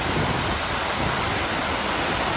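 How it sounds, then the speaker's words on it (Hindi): Meltwater from melting snow near the Koksar ice point in Manali rushes steadily and loudly, a constant broadband wash with no pauses and no voices. "ये जो पानी है पूरा बर्फ़ का गला हुआ ही पानी आ रहा है यहाँ पे"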